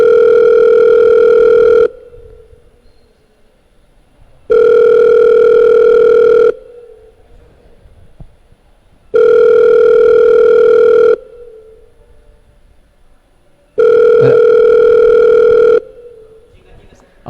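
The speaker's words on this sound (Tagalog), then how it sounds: "pinakinggan natin yung telepono, no? Na nag-ring." A telephone rings four times in an even pattern, each steady two-second ring followed by a pause, loud and clear with no one talking over it.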